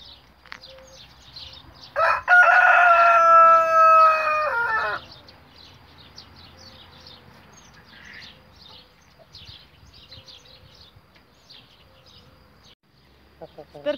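A Brahma rooster crows once, a loud drawn-out call standing out over quiet farmyard ambience, with faint insect buzz and scattered low background noise afterward.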